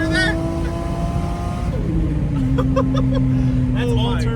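A Toyota Chaser engine drones loudly with a high, steady turbo whistle riding above it, shifting pitch as the revs change, with brief voices near the end.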